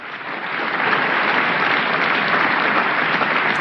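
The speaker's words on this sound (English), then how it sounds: "And this got applause as well." A 1965 debate hall audience breaks into applause, a thick uniform roar of clapping that swells in over the first half second and then holds steady, muffled and somewhat distant with a dull, band-limited archival quality.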